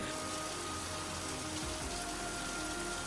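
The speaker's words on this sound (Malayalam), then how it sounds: "അപ്പോഴേക്കും ഇതാ മഴ പെയ്ത്" Heavy rain pours steadily in the hills, a dense, unbroken wash of falling water that stays loud and constant throughout.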